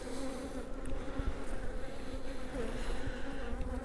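Honey bees hum steadily at a styrofoam hive, a soft, continuous, close buzz with no voices over it.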